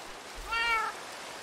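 A single drawn-out cat meow in a Minecraft game, moderately loud and close, rising then falling over about half a second against a quiet background.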